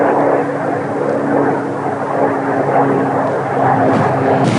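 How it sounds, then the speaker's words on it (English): A propeller airplane drones steadily overhead in the desert hills near Lake Havasu, a loud continuous engine hum with no talk, heard outdoors. "check this out, airplanes coming in"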